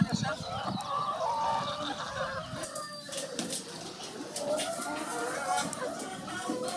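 Free-range hens cluck and squawk with occasional wing flaps in an enclosed henhouse, a busy mix of bird calls while a person talks nearby.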